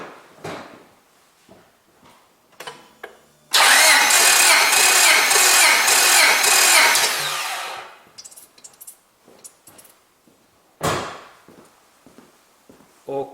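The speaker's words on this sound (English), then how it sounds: "and then I go to start my engine." A car engine cranks and fires during a cylinder compression test, giving a loud, steady roar for about four seconds before it cuts off, with quieter clicks and knocks before and after.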